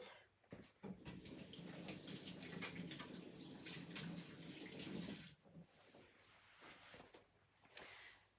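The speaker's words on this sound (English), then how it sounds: "I'm going to wash my hands for a second." Water runs from a tap into a sink during handwashing, a steady broadband rush for about five seconds before cutting off, followed by a few quieter splashes and drips near the basin.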